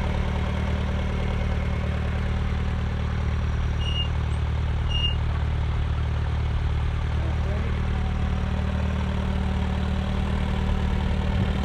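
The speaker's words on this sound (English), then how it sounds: "is the Massey Harris Pony, 4-cylinder petrol engine." A Massey Harris Pony tractor with a 4-cylinder petrol engine and twin-way plough fitted idles steadily, a constant low throbbing rumble close by, with a couple of faint squeaks over it.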